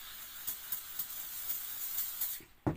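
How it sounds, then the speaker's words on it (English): Cooking spray hissing onto drained cooked macaroni, a few short faint bursts over a steady background hiss, ending with one sharper, louder spritz. "After draining it, I spray a little bit of cooking spray on it"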